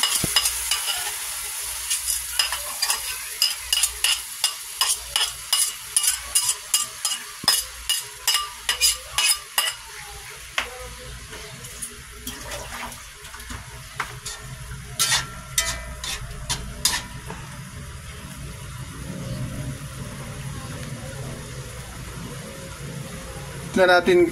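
Shrimp paste (alamang) being sautéed in a pan, a constant sizzle with rapid rhythmic stirring and spatula scrapes against the metal, with a voice talking at times.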